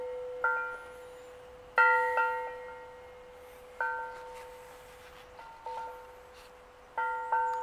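A large antique bronze bell, about 10 inches across and over 36 inches long, rung by a wind catcher, rings out in irregular, widely spaced strikes, each clear tone sustaining and slowly decaying.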